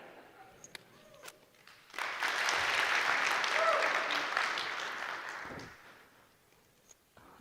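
A conference audience at a React developer talk bursts into clapping, loud and sustained for about four seconds before thinning out, with scattered claps beforehand.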